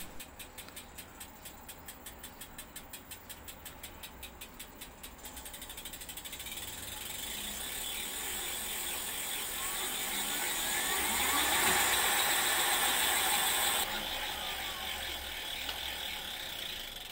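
Two electric bicycle hub motors, front and rear wheels driven together, spin up under throttle with a rapid ratcheting click at first, then a steady whirring hum that swells and eases, with no talk.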